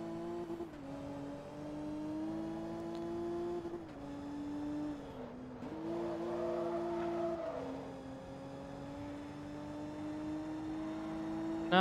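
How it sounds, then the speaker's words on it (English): Ferrari F40 engine roaring at racing speed in Forza Motorsport 2, a steady loud drone with rising and falling revs and gear shifts across the whole stretch, no talking. "Got a very angry Ferrari F40 on my ass here."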